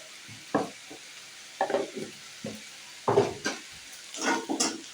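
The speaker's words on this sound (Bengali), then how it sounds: "মেথি শাকটা দিয়ে আমি আলুর সঙ্গে ভালোভাবে মিশিয়ে নেব।" Fenugreek greens being stirred into fried potatoes in a pan, heard as a series of scraping, clattering spatula strokes in irregular bursts over a faint sizzle.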